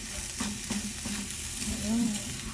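Bitter gourd (ampalaya) being stir-fried in oil in a pan, with a steady sizzle and repeated scraping strokes of the spatula as it is tossed, close and continuous with no talking.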